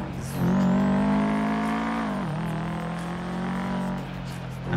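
Car engine droning in a video game while driving around Legion Square, a steady close hum whose pitch rises, dips sharply for a gear change, then settles, with talk over it.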